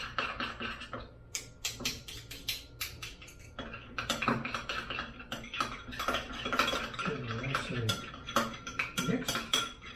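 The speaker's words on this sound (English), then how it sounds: "a little bit of honey, the same quantity, teaspoon of each, and then we're going to mix them together" A teaspoon of seed grounds and a teaspoon of honey are stirred together in a bowl, with a spoon repeatedly clinking and scraping against the dish in quick, uneven bursts.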